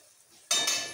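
Spices with red chili powder hit a hot pan for a prawn cream malaikari, and after a brief quiet moment a loud, bright sizzle bursts up and keeps frying steadily.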